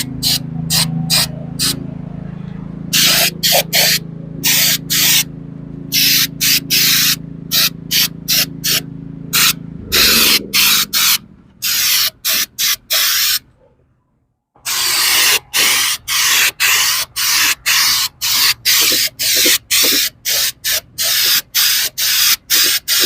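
Chrome spray paint hisses from an aerosol can in rapid repeated short bursts, loud and close, with a lower steady hum at the start and a brief pause midway.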